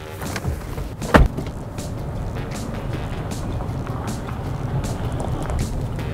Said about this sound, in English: What a lovely sunny day it is to be out driving a Nissan Navara, a brand new, no less, 69 plate Nissan Navara.